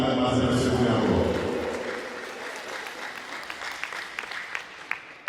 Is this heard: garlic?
no